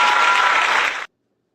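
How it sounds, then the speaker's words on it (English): Applause sound effect in a live NFL Draft talk show, a dense burst of clapping lasting about a second that cuts off abruptly to silence. "let me give you a round of applause on the way out"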